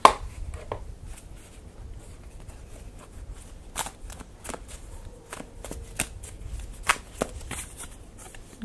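Tarot cards being shuffled and drawn, heard as a run of sharp, separate taps and slaps spaced unevenly over a quiet background.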